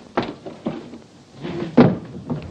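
A door closing indoors: a few separate wooden thuds and knocks, near and moderately loud, with shuffling between them and a firmer thump near the end.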